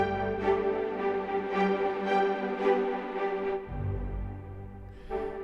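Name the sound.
orchestral strings preset played in UJAM Symphonic Elements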